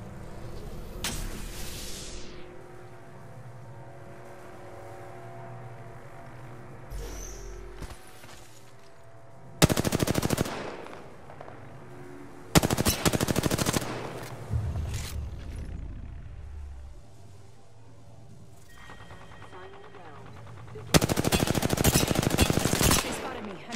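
Machine gun fire in a console shooter game, several loud sustained bursts separated by quieter stretches of low ambience and mechanical sounds.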